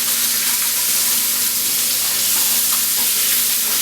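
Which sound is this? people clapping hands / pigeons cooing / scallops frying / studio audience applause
scallops frying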